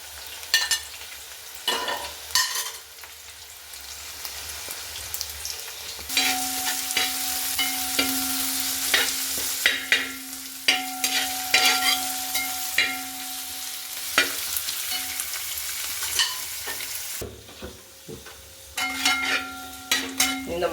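Crushed garlic, green chilli and curry leaves frying for a homestyle tapioca and tripe dish. A long stretch of sizzling runs under repeated spoon scrapes and clatter, with a faint steady hum in the middle and no speech.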